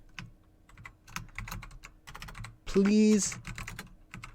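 Keys clatter on a computer keyboard in quick irregular bursts of clicks while a voice briefly speaks partway through.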